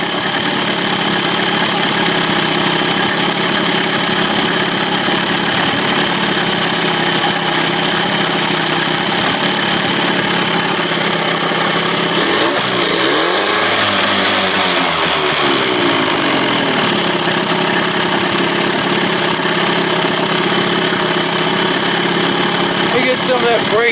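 2000 Johnson 25 hp outboard motor on a 13-foot Whaler idling, a loud, steady mechanical drone close by throughout, with a brief shift in tone partway through.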